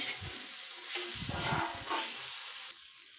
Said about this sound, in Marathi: आता मी थोडंसं त्यात मीठ टाकते आणि परत दोन तीन मिनिट परतून घ्यायचं आहे